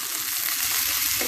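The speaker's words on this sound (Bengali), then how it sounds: "ডাটা এবং আলু যখন একদম ভাজা ভাজা হয়ে যাবে" Drumsticks and potatoes fry in a pan with a loud, steady sizzle and occasional stirring, close up and with no voices.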